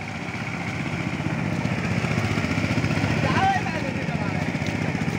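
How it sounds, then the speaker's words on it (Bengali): Three power tillers work a muddy paddy field together, their engines making a continuous rhythmic chugging drone with a slight rise midway, while someone talks over the machinery. "দেখুন, তিনটি পাওয়ার টিলার একটি জমিতে জমি চাষ করা হচ্ছে।"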